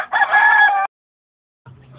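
A fighting rooster crows once, loud and close, for just under a second, followed by a short silence and then a faint low hum.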